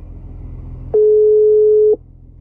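A single steady electronic phone tone sounds for about one second on a call that goes unanswered. It is clear and loud, with faint room noise before and after it.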